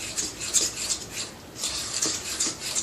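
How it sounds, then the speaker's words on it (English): A spoon scrapes and churns through thick, lumpy muffin batter in a mixing bowl, close and fairly loud, in quick rhythmic strokes with a brief pause midway. "It doesn't take too many stirs to get it all together"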